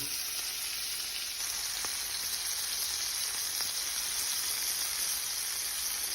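Capelin fish sizzle steadily in a hot frying pan, a constant, even hiss close up with a couple of faint clicks, no voices.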